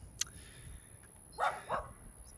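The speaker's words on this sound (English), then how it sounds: "there was a lady walking her dogs along with someone else." Dogs being walked outside bark a few times in the distance, two short yelps close together after an earlier faint sharp sound, over quiet room noise.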